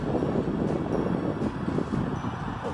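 Steady wind buffeting outdoors, a continuous low rumbling roar with gusty swells, fairly loud and close to the microphone.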